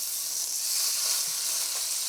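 Steak sizzles in its own rendered fat in a stainless steel pan, a steady bright hiss and crackle holding close and even throughout with no voices.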